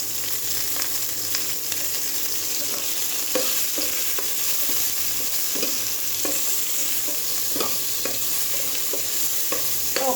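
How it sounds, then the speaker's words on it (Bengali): Onions frying in an oil-filled kadai sizzle loudly and steadily while a spoon scrapes and stirs them at close range, with no voices. "পেঁয়াজটা ভাজা"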